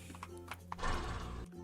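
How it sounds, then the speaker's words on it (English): A wild horse mob from the Minecraft Mo' Creatures mod gives a short, fairly faint whinny over a low game background hum, with a few soft ticks before it. "Now, this first mob is the Wild Horse."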